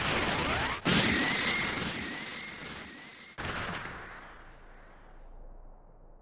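The Special Beam Cannon attack in Dragon Ball Sparking Zero erupts as a loud, roaring energy blast with two sharp bursts a few seconds apart, each followed by a rushing, crackling wash that slowly fades out.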